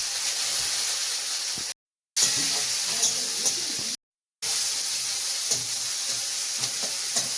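Chopped tomatoes go into sizzling onions in a pan and get stirred, a loud close sizzle with scraping stirs, broken by two brief cuts to total silence.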